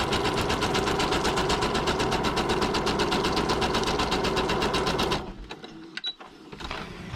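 Sewing machine running a plain straight stitch through paper, a steady fast mechanical chatter for about five seconds before stopping, followed by quieter handling noises.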